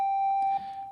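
A thin, high-pitched 'hip lead' keyboard synth patch holds one steady bright tone for about a second, alone and fairly loud.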